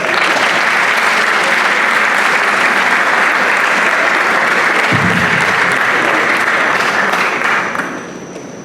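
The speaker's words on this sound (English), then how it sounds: "You got an applause at the end" Town hall audience applauding after a presentation, a broad continuous wash of clapping that holds loud and even for several seconds, then thins and fades at the close.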